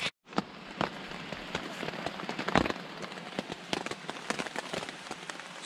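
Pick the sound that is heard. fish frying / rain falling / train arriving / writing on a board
rain falling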